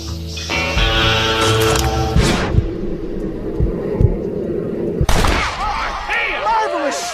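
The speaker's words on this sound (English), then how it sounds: "Marvelous shot, dear boy." Gunshots ring out in the Western video game Red Dead Redemption. A loud soundtrack plays first, then a couple of sharp, close shots cut through, followed by scattered rattling effects.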